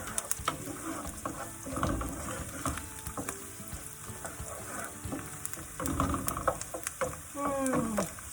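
Garlic frying in a pan for gnocchi, a continuous crackling sizzle with scattered pops and a few scraping stir sounds, close and clear with no talking.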